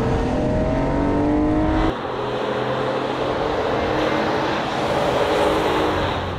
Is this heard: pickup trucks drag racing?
yes